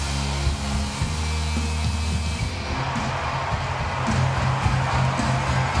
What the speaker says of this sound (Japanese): いつも使ってるドライヤー紹介するね